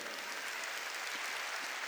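A church congregation claps during a worship service, a brief, dense burst of steady applause filling the room.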